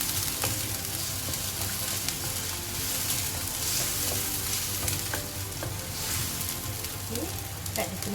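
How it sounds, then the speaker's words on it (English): Tomato frying and cooking down in a pan, a dense continuous sizzle with crackling spatters and occasional stirring, close and steady throughout with no talk. "Let the tomato cook until it is mashed."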